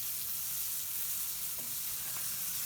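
Cajun-style smelts sizzle steadily as they pan fry in hot oil, with a constant close crackle, a faint clink partway through, and no voices.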